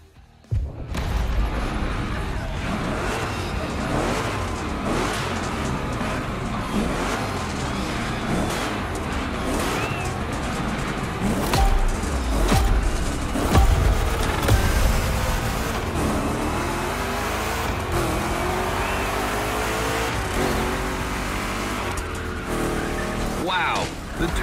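Chevy big block cars race and skid in The Crew Motorfest, with loud continuous engine roar, squealing tires and swelling revs throughout, and a person talking over the action.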